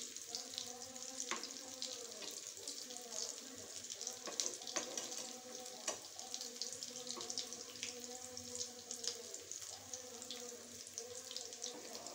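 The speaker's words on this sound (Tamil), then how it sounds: "கடலெண்ணெயில் தான் நான் பொரிக்கிறேன்." Quiet, steady sizzling of groundnut oil frying in a pan, with faint crackles and occasional clinks throughout.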